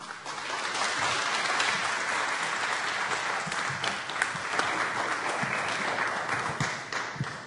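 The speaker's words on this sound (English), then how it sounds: "let's give him big applaud and warm welcome" An audience bursts into sustained, dense applause welcoming a minister at a Canadian citizenship event in Brampton, the clapping steady and loud throughout.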